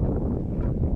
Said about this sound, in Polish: Duży wiatr.